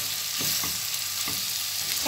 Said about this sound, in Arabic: كنخلطوهم هكذايا حتى كينسجمو مع بعضهم